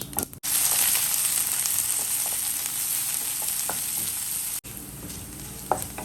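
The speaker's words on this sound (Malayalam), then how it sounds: "നമ്മുടെ കടുക് പൊട്ടി തുടങ്ങുമ്പോൾ നമുക്ക് രണ്ട് മുളക് രണ്ടും ഒരു അഞ്ചാറ് കഷ്ണം ചെറിയ ഉള്ളി ഇച്ചിരി കറിവേപ്പില രണ്ട് മൂന്ന് പച്ചമുളക് ഇതെല്ലാം കൂടെ നുറുക്കി ഇട്ട് കൊടുക്കാം" Mustard seeds, dried chillies, shallots and curry leaves frying in hot oil give a loud, steady crackling sizzle with scattered pops, almost continuous with two brief breaks.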